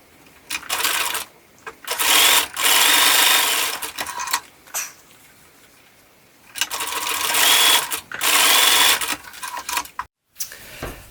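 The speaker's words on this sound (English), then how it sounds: "zigzag up and down a couple of times to make it into a circle" A domestic sewing machine zigzag-stitches back and forth across overlapped elastic to join it into a circle for baby leggings, running in several bursts of steady whirring with short pauses between them and no speech.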